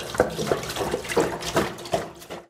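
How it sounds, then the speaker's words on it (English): Tap water running into a parts washer tank, a steady splashing fill with irregular gurgling pulses, close and moderately loud, ending abruptly. "while I fill this with water"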